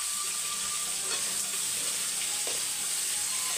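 Vegetables sauté in a hot pan with a steady, even sizzle and hiss that carries on throughout, with no one talking.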